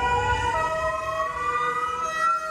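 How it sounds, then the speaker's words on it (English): An ambulance siren wails steadily and loudly, its rising and falling tones sustained throughout, with a low road rumble underneath and no talking. "now that's an amazing siren he caught right there"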